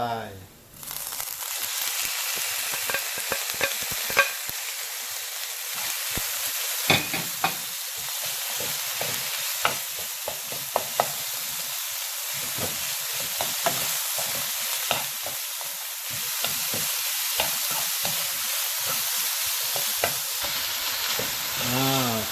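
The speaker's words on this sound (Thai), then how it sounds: "วันนี้ เอาหมูสับลงไป" Minced wild boar pork with garlic stir-fried in a hot pan for pad kaprao, a steady loud sizzle with repeated scraping stirs of the spatula throughout, no talk over it.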